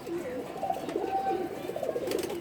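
A male khaki pigeon gives low, rolling coos, repeated and close, over a soft background murmur. No one speaks.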